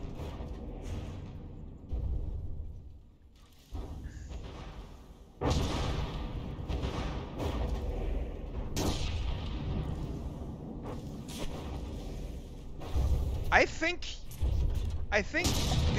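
Warship gunfire in the naval combat game From The Depths, a series of heavy booms and bursts of cannon fire amid mechanical clatter, with someone talking over much of it.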